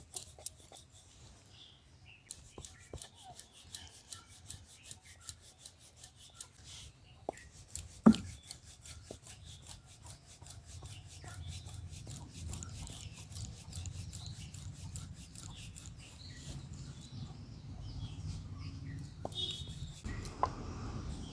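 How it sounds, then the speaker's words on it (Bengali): Dough balls dusted with flour are rolled thin with a rolling pin for potato patties, giving soft repeated rubbing and rolling strokes that grow steadier and denser, close and quiet, with one sharp knock partway through. "অল্প অল্প ময়দা দিয়ে আমি লেচিগুলোকে বেলে নেবো"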